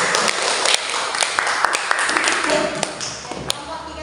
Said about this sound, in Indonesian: silakan beri aplaus.